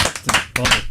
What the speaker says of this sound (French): on applaudit Pierre comme ça